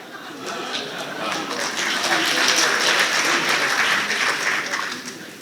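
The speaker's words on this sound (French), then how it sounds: "Si j'en crois les applaudissements dans la salle" Sustained audience applause fills a hall at a 2015 entrepreneurs' forum debate, swelling to a loud peak midway and then easing off, with a dense crowd of clapping hands.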